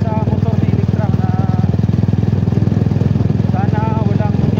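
Someone's motorcycle engine running with a steady, loud, rapid low-pitched putter, close by, while someone talks over it.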